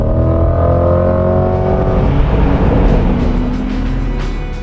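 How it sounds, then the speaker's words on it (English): A Chevrolet Corvette Stingray's mid-engine V8 accelerates hard under full throttle, a loud, sustained engine roar with rising harmonic tones that climbs steadily, close and continuous throughout. "that powerful mid-engine V8 back there has all the torque necessary to fling the Corvette up to triple-digit speeds, quickly and easily"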